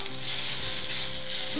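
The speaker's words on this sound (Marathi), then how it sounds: "आता मी आमटीची तयारी करते आहे, सगळं परतून घेते आहे" Dal, rice and spices roasting in a pan for Marathi katachi amti, a steady close sizzle and frying hiss with faint stirring, no talking.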